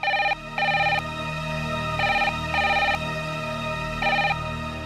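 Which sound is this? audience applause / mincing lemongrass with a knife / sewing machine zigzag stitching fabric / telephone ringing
telephone ringing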